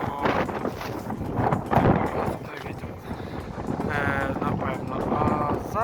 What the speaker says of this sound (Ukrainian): у нас дуже здоровий вітер